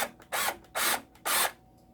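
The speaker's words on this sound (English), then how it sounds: "Gonna tighten the bolt in the front." Three short whirring bursts in an even rhythm as a power driver tightens the front bolt on an acoustic guitar during setup, fairly quiet and close, with no talk.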